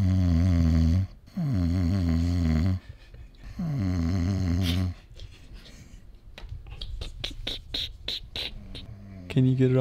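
A man snores heavily while asleep, with long, loud, rasping breaths repeating at a steady pace, followed by scattered clicks and faint background noise.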